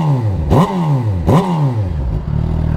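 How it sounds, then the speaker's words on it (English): A motorcycle with its slip-on exhaust removed revs sharply twice, each blip rising and falling quickly over a rough idle, loud and close. "I just straight piped it. Not a real straight pipe, I just removed the slip on."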